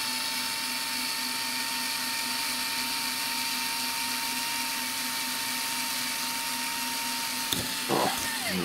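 A power drill bores through a spacer while building an Edge 540 model aircraft, giving a steady, close high whine that holds evenly for several seconds, then a click and a quick spin-down at the end.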